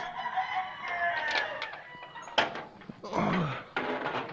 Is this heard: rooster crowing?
yes